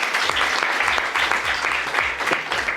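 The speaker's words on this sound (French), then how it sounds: "je pense qu'on peut applaudir Franck d'ailleurs pour cette présentation" A conference audience applauds after a talk on the history of the AI revolution, with dense steady clapping filling the room at a loud, even level throughout, with no voices over it.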